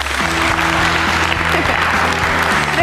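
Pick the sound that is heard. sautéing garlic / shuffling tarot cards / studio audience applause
studio audience applause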